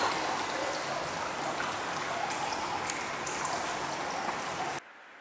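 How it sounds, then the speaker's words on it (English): Hot spring water pours out at Tsuchiyu Onsen in Japan, a close, steady splashing rush like heavy rain that runs continuously, then cuts off abruptly just before the end. "That's where the water's coming out."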